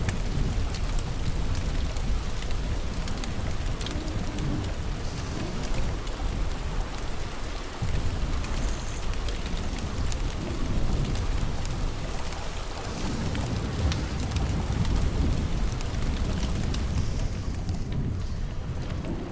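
Rain pours in the video game Don't Starve: Shipwrecked, a steady, loud, dense hiss of falling water with deep rolling thunder rumbles underneath, continuous throughout with no voices.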